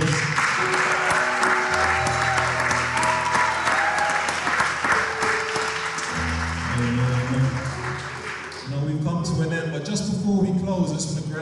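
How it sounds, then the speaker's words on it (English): An audience at a Good Friday praise and worship night applauds loudly and continuously. Musical tones sound under the clapping, and the applause thins toward the end as voices come in. "Can you guys just give these guys just a round of applause?"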